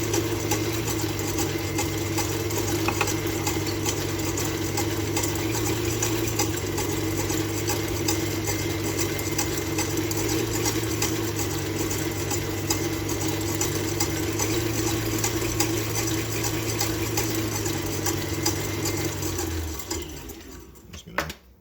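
An electric mixer whisks egg whites while sugar is added for Japanese soufflé pancakes, a loud, steady whirring drone held close and unbroken for about twenty seconds before the motor winds down and stops.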